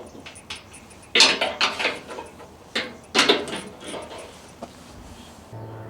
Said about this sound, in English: Now go ahead and grab the cooking pot and put it back inside the unit